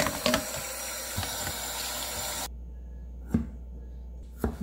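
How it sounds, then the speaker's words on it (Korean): Running tap water splashes over mussels in a sink, a steady hiss that cuts off midway, followed by a few sharp clicks and knocks of shells. "물로 씻어 세정도 해줬습니다."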